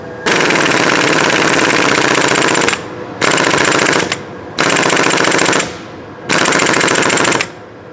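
Impact wrench tightening a boost pump fires in four loud, close bursts of rapid hammering, each lasting one to two seconds, separated by short pauses.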